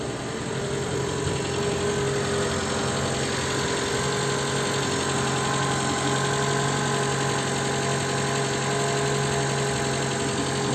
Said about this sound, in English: Okay, let's listen to our engine.